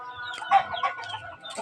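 Texas gamefowl chickens cluck nearby in a short burst of throaty calls, a couple of louder clucks standing out.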